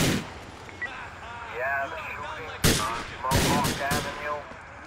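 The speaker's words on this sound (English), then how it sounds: "Who's shooting at me?" Gunfire in Grand Theft Auto IV cracks out in a few loud, sharp bursts, some in quick succession, while someone talks throughout.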